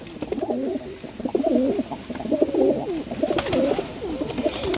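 Pigeons cooing in repeated low, throaty phrases, close by and steady throughout, with faint background noise.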